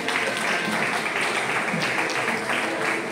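Steady applause from a concert audience, a dense continuous clapping that fills the whole moment at an even level.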